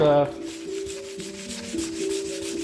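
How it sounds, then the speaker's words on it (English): Varnished wooden floorboards being scuffed by hand with 180 grit sandpaper, a steady close rasping rub in repeated strokes after a brief louder knock at the start, with no speech. "Just going to scuff them up with some 180 grit sandpaper."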